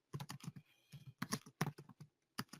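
Someone types a search on a computer keyboard: quick bursts of crisp, close key clicks with short pauses between the runs of strokes.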